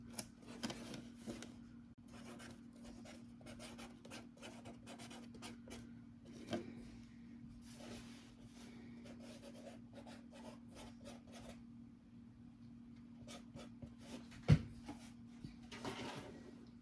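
A marker scratches and rubs across a plastic winter sowing container in short, quiet strokes, with faint handling knocks and one sharper tap near the end.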